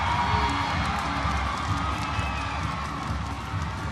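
A volleyball match crowd cheers and shouts in a dense, steady roar that fills the arena, with a commentator's voice faintly underneath.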